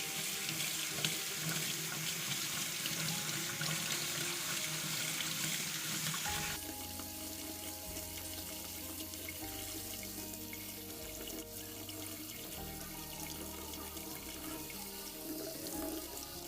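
Steady running water pours and splashes continuously through a sieve, first in a bright rushing stream, then settling into a lower, fuller flow, with no talking.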